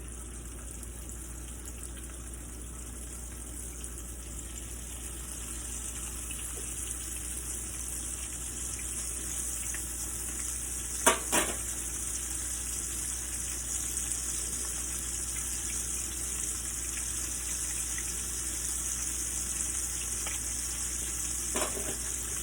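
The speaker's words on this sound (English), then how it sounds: "I'm not speeding this up on purpose so that I can show you about how long these need to fry for" Crispitos deep-frying in hot oil make a steady, faint hiss and bubble that runs without a break, with a couple of brief sharp crackles near the middle and again near the end.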